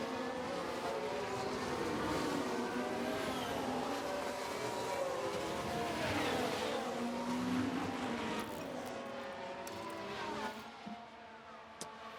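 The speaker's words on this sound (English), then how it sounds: "Look at these cars racing." A pack of race cars racing on track, engines whining and sweeping in pitch as they pass in overlapping waves, loud and sustained before thinning out toward the end.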